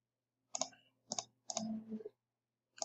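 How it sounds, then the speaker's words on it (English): Dice roll and clatter in four short, close bursts of rattling clicks separated by brief pauses, with no voices. "Dice roll."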